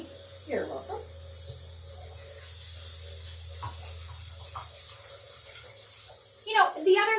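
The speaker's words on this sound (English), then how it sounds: "we just thought we would go ahead and put in our 2 cups of water." Tap water runs into a pot for two cups of water for a recipe in a kitchen. It makes a soft steady hiss under the talk of people nearby, with a small splash near the end.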